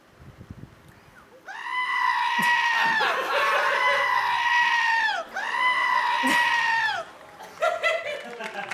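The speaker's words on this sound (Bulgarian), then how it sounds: "Добре, коя е тази крещяща овца?" A sheep lets out long, loud, wavering bleats within a song recording, two sustained cries followed by shorter ones.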